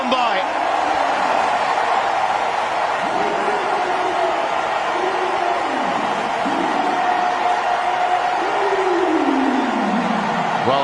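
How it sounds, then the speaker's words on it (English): A cricket crowd in Mumbai at a T20 World Cup match sends up a broad, sustained roar with rising whoops and cheers, while a commentator talks over it. "Listen to the crowd here in Mumbai"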